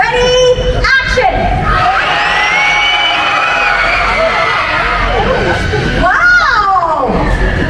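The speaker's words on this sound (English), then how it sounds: "scream as loud as you can, as if you fell into a pit of angry, venomous snakes" A large crowd at a Disney Indiana Jones stunt show in Hollywood Studios screams loudly on cue, a sustained mass of shrieks and shouts with children's voices, swelling again near the end.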